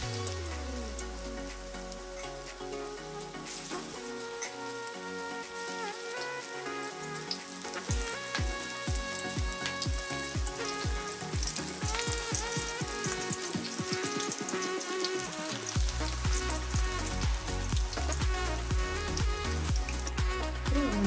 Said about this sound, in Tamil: எண்ணெய் நல்லா சூடானதுக்கு அப்புறமா ஒவ்வொரு பாவக்காவையும் போட்டு இது பொரிச்சுக்கலாம்